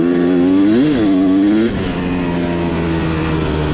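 A nearby motorcycle engine runs loud and steady, revs up and falls back in one quick swell, then settles into a level, rumbling idle, with no voices.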